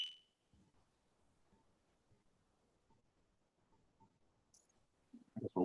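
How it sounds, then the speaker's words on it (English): Smoke or fire alarm in a room during a board meeting, giving a sharp high chirp at the start and another brief beep later, with faint clicks and low background noise. "I got a fire alarm issue."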